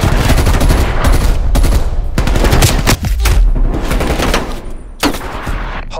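An artillery strike in Call of Duty: Black Ops Cold War pounds out a loud, close barrage of repeated explosive bursts and gunfire, with a few brief gaps between blasts, and no talking over it.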